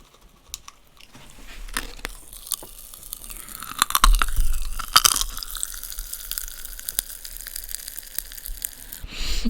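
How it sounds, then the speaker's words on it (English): Popping candy crackles and fizzes right up close to the mouth as it is chewed, giving scattered tiny pops and crunchy snaps that grow busier midway, with quiet wet chewing underneath and no talking. "I haven't had popping candy for years."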